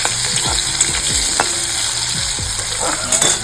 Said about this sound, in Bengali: হালকা করে আলুটাকে ফ্রাই করার পরে তারপরে এর মধ্যে অ্যাড হয়ে যাবে মশলাগুলো